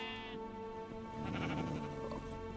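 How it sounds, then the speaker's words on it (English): Sheep bleating in a video game as a pack of wolves attacks it, the bleats rising loud and strained near the middle over a steady game background, with no talk. "Those wolves are going for that sheep."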